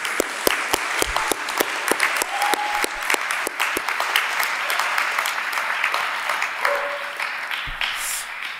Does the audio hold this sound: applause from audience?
yes